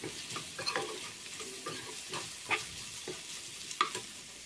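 Ivy gourd frying in oil with turmeric, stirred repeatedly with a spatula, giving rhythmic scraping strokes over a steady soft sizzle, close by and fairly quiet; no speech.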